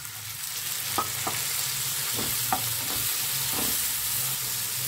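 Tomatoes fry in hot oil for a banana flower curry with a steady, close sizzle, while a spoon scrapes the pan in several short, separate strokes.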